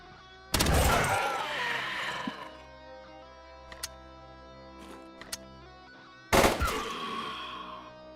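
In the space game Ostranauts, two loud bursts of SMG fire ring out, one near the start and one near the end, each followed by a fading ring. A few faint clicks fill the quieter stretch between them.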